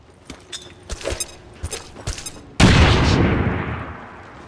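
Bombs exploding in the video game XCOM 2, a few sharp clattering shots and bangs followed by one loud, close blast that rumbles and fades over a couple of seconds.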